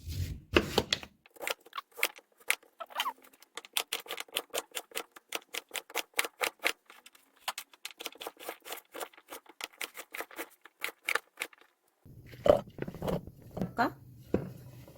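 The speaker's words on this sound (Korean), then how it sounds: "비트를 어떻게 잘라? 이렇게 작게. 안에 이렇게 다져?" Beets chopped finely with a knife on a board, making rapid, even clicking taps in long runs broken by short pauses, followed by voices talking near the end.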